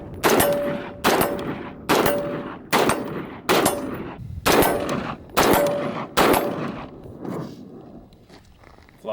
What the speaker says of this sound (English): we'll shoot a couple more rounds for you guys.